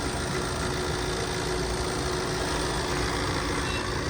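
A 2018 Tata Hexa diesel SUV idles steadily, a constant broadband engine rumble with a faint tonal hum that holds unchanged throughout, with no talk over it.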